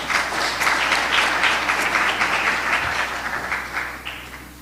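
Conference audience at an East African investment conference applauds as Fred Swanika is welcomed, a sustained dense roar of clapping that slowly fades toward the end.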